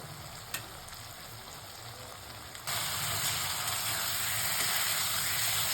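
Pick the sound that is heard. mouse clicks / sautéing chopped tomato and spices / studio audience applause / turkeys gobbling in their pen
sautéing chopped tomato and spices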